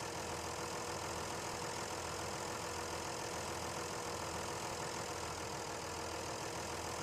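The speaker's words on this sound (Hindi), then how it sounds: "और ये हमारा ट्रैक्टर आ रहा है चढ़ते हुए ऊपर।" A tractor engine labours climbing uphill through mud, a steady continuous rumble with broadband roar, moderately distant and constant throughout, no talking.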